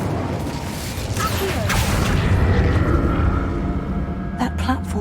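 The Incendio fire spell in Hogwarts Legacy is cast with a broad, rumbling whoosh of flame, a steady roaring burst that lasts a few seconds with faint clicks near the end.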